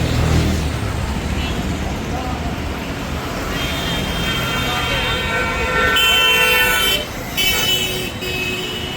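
Busy Kolkata street traffic outside Alipore Zoo roars continuously with engines and road noise, while several car horns toot and blare in overlapping bursts, loud and close.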